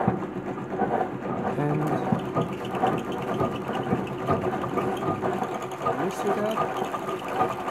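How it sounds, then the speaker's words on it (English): A butterfly sewing machine winds a bobbin as its hand wheel is turned, giving a continuous rhythmic mechanical clatter and whir close by, with a person talking over it. "So just place it in here, okay, then roll your wheel"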